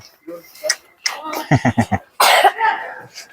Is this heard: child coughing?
yes